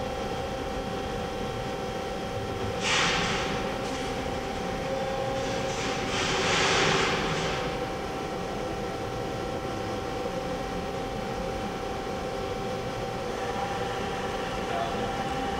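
AWEA CNC table-type horizontal boring mill from 2012 with its axes moving, a quiet steady mechanical hum with faint hiss swells, in a workshop setting.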